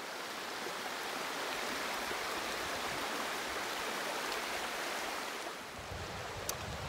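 Steady broadband rush of a river flowing through sunny woodland in the Gwaun Valley, a continuous even wash of water noise with no voices, holding constant throughout.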